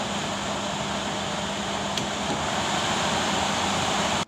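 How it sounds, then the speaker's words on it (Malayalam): An air cooler blows at reduced fan speed, giving a steady, even whoosh with a low hum underneath, continuous and close, then stopping abruptly at the end. "കാറ്റ് പുറത്തേക്ക് ഫ്ലോ ചെയ്യുന്നതിൻ്റെ ഒരു ശബ്ദം ഉണ്ടാവും."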